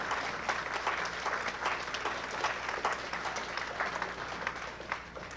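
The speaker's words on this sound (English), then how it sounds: "I think we need to give Reverend Bandy a round of applause for helping make possible the sales tax that" An audience at a 1992 high school ceremony applauds, the clapping dense, steady and fairly distant for several seconds with no speech over it.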